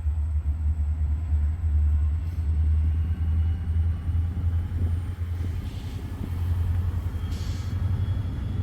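A vehicle near railroad tracks at the Lodi cement terminal produces a steady, heavy low rumble throughout, with its engine droning loudly and continuously and no voices present.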